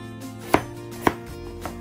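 Onions being chopped on a board, two distinct knife thuds about half a second apart followed by a fainter third, with a quiet background hum between strikes.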